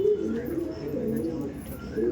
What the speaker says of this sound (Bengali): মঙ্গলগিরির পায়রা এগুলো, মঙ্গলগিরি মঙ্গলগিরির পায়রা